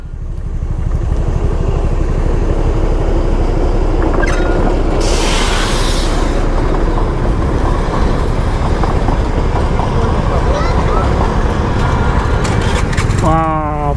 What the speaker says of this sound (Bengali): সো ফাইনালি আমাদের দেখা হয়ে গেল টয় ট্রেনের সাথে।